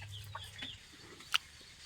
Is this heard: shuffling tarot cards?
no